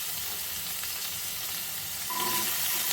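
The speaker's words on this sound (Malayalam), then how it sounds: "ചൂടായ ശേഷം നമുക്ക് എല്ലാ സാധനങ്ങളും ഒന്ന് സോട്ട് ചെയ്തെടുക്കാം" Garlic, shallots, urad dal and coconut sautéing in a pan, a steady soft sizzle running throughout with faint stirring scrapes, growing slightly busier toward the end.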